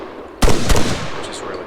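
A single sharp, close rifle report from an FN2000 in the ArmA 3 beta, with a quick echoing tail that fades out within half a second.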